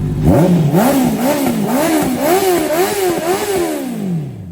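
A big bike motorcycle engine revs loudly and close at a bike shop, blipping up and down in repeated quick surges before settling back toward idle.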